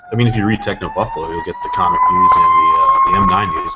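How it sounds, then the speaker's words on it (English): Emergency vehicle siren passing outside, a steady rising wail running under continuous conversation between several people. "Sorry about that siren, everybody."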